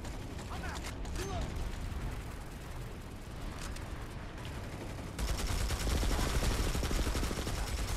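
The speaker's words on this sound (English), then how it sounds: "Can't get away from shots in this game, man." Dense gunfire from the Planetside 2 battlefield, a busy wash of distant and mid-range shots and mechanical clatter that grows louder and more rapid in the last few seconds, with faint talk underneath.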